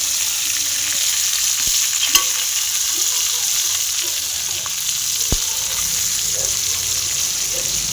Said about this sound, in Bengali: দেখো, মাছগুলো সুন্দর করে আমার ভাজা হয়ে গেছে